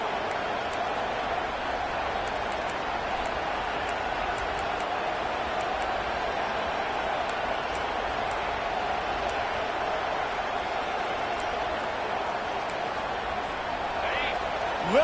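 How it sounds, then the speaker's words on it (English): A football stadium crowd roars to help the home defense, a dense, loud, steady wall of noise that fills the whole stretch without letup. "Listen to this crowd just shaking the girders of this place, trying to help their defense."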